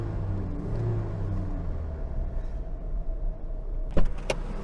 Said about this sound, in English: Watch the engine rev, look.